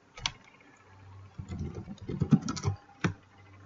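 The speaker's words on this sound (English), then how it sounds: "So you would type in what you're looking for" Someone types on a computer keyboard in a quick irregular burst of close clicking keystrokes, with a few isolated taps before and after and a faint low hum beneath.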